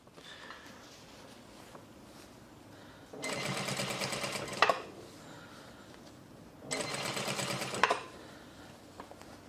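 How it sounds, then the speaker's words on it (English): A sewing machine stitches a pants seam along the edge through both seam allowances and twill tape, running in two steady bursts of about one and a half seconds each, close and clear in a quiet room. "sew along the edge through both seam allowances next to that top seam"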